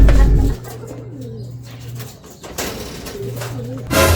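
Racing pigeons give soft, close, repeated throaty coos at a loft in Laguna as the birds come home from a sprint race. Louder thumps and rustling sit at either end.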